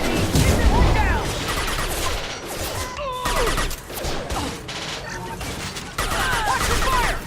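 Dense gunfire in Mass Effect 2 combat, with rapid bursts and overlapping shots, crashes and impacts, loud and continuous, under shouted battle voices.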